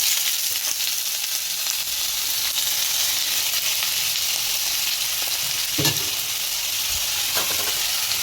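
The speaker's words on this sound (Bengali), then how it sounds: "জিরা দিয়ে দিলাম তেলের উপরে আলুটা একটু ভাজা করে নেব হালকা" Potatoes frying in hot oil with cumin in a pan, a dense, steady, loud sizzle running throughout with a couple of faint stirring knocks and no talking.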